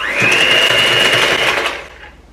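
An electric mixer whirs steadily at high speed, beating butter and sugar for cookie dough. The motor whine is loud and constant, then winds down near the end.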